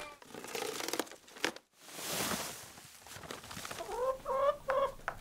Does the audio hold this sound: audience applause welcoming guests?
no